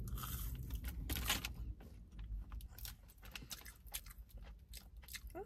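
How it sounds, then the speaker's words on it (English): Someone chews a Subway churro dessert up close, with faint, irregular crunchy bites and soft mouth sounds over a quiet background, no talking. "Right now, I'm just chewing down."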